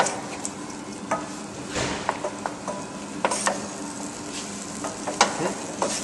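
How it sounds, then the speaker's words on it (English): Milk being stirred into a sizzling roux for bechamel sauce, with a soft bubbling sizzle underneath and scattered sharp clicks and scrapes of a utensil working around the pan. "Stir in the milk to the roux"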